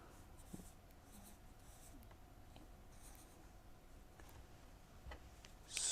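A marker or pen drawing a polymer diagram on a board makes faint, steady scratchy strokes with light ticks in a quiet room.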